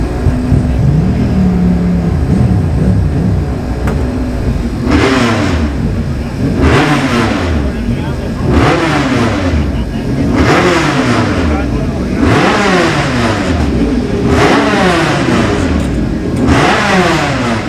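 Two-stroke racing motorcycle engines revving loudly in the paddock at the Senior Classic TT on the Isle of Man, with repeated sharp throttle blips rising and falling over a constant idling drone.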